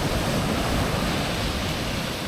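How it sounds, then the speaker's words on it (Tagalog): Surf at a beach on Siargao roars as a loud, continuous broadband wash of breaking ocean waves, steady throughout, with some wind noise on the microphone and no voices. "Grabe yung alon eh."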